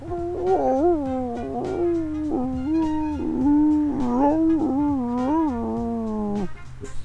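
A voice imitates a dog's long, wavering howl, sustained and rising and falling in pitch for several seconds, loud and close.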